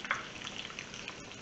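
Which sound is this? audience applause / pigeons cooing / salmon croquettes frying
salmon croquettes frying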